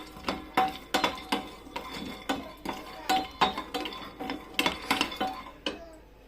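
Pistachios and walnuts roast in a pan, with a utensil stirring and scraping them in a quick, irregular run of sharp clinks and rattles, close up and with no talk.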